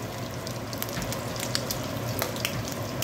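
Ground hamburger meat fries in a pan with a close, even sizzle and scattered crackling pops throughout, with no one speaking.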